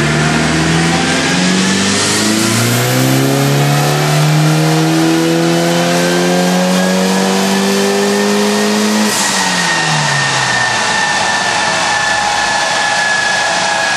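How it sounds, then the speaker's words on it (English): A Stage I Mitsubishi Evo IX with alcohol water-methanol injection and high turbo boost makes a full-throttle dyno pull, engine note climbing steadily in pitch for about nine seconds, then dropping off as the throttle lifts, loud and close with no talking. "We're going to do a pull here. Car's starting to make some more power"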